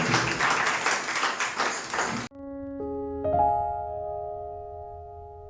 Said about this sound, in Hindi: एक जोरदार उत्तम ताली जो यीशु मसीह के लिए।